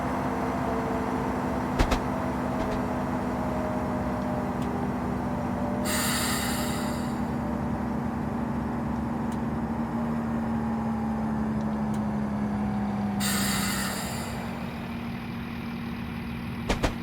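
A train braking in Train Simulator 20 on the Liverpool–Warrington route: a steady low engine drone runs throughout, broken by two short bursts of hissing brake air.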